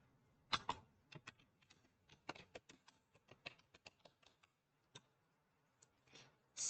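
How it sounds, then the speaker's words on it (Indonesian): Keys tapped on a computer keyboard while a Cisco CLI command is entered during CCNA remote access setup, quiet, uneven clicks in short runs with a louder keystroke near the end. "Terus kalau udah kita ketik enable secret."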